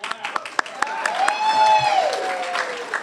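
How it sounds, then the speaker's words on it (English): A Kiwanis club audience claps for newly announced club officers at a meeting, a brief burst of scattered hand claps mixed with murmuring voices and a faint tonal ringing. "Go ahead and clap"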